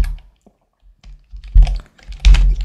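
Computer keyboard typing as text is entered into a Word document: a few sparse key taps, then two louder bursts of rapid clacking, close and clear with no talk over it.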